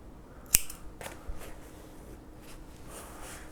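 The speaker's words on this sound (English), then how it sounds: "you'll want to chain 1 and cut your yarn." Scissors cutting crochet yarn, one sharp close snip followed by a few faint rustles and handling noises against quiet room tone.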